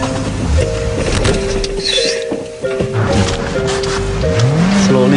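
A manual car on a pizza delivery run, driven by an inexperienced trainee, its engine droning with tonal whines that climb in pitch near the end as it revs, loud and close throughout.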